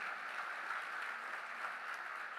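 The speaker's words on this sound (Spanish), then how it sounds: "Dele un fuerte aplauso." A church congregation clapping during a sermon, a soft, even wash of applause that holds steady for a couple of seconds, distant and fairly faint.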